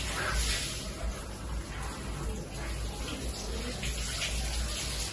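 Tap water runs steadily into a sink during household cleaning, a continuous soft hiss and splash from start to finish with no pauses.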